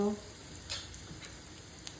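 Cumin and asafoetida sizzling in a spoonful of hot oil in a kadhai, a faint steady hiss with a couple of soft stirring taps, quiet and close.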